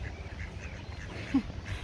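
A single faint duck quack rises briefly from a steady outdoor hum of background noise.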